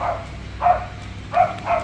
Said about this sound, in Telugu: Sorry for the dog barking. పక్క ఇంట్లో వాళ్ళ కుక్క అరుచున్నది.